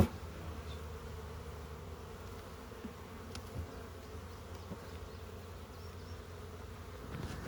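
Honey bees at an opened beehive give off a steady, dense buzzing hum, with a few individual bees passing close now and then.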